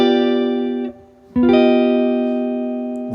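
A guitar strums a seventh chord with a sharp fifth, ringing and sustained, briefly cut off, then restruck and left to ring out clearly with a bright electric tone.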